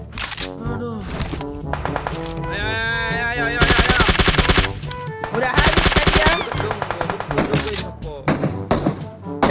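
Gunfire in PUBG Mobile: loud close bursts of automatic fire and single cracking shots in quick runs, mixed with people talking excitedly.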